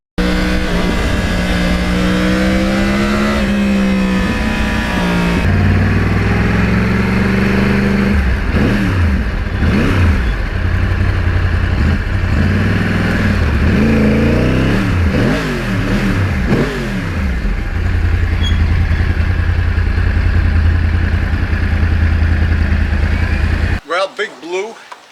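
A 2009 Yamaha R1 crossplane motorcycle nicknamed Big Blue is ridden, its engine droning loud and steady with rising and falling revs through gear changes, and someone talking over the ride.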